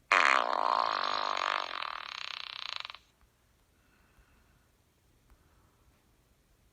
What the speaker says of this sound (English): This is a fart.